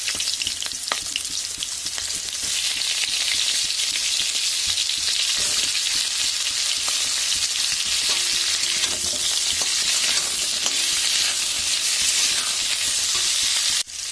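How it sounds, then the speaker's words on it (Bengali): Loud, continuous sizzling of potatoes and green banana frying in hot oil, with occasional stirring scrapes, holding steady for the whole stretch before cutting off. "এবার আমি কেটে রাখা আলু কাঁচগুলো দিয়ে দিচ্ছি"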